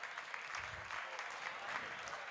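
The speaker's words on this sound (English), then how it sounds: "If everyone could give them a quick little round of applause" An audience at an Iron Chef-style cooking event gives a short round of steady, dense clapping that fills the entire moment at a moderate distance.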